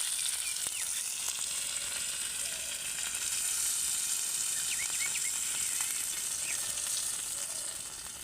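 Chicken kebab skewers fry in a shallow pan of leftover oil, producing a loud, continuous sizzle with occasional pops and no talking.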